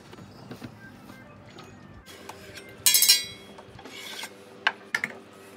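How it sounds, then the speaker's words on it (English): Sanding thick polyurethane finish off a wormy maple dresser gives intermittent scraping and rasping strokes, quiet and close, broken by a few louder bursts and a couple of sharp knocks. "I sanded these for a long time."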